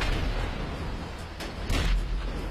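A tank cannon fires in a combat video game during a deathmatch, a loud booming blast with a second heavy report shortly after, over continuous low rumbling battlefield noise.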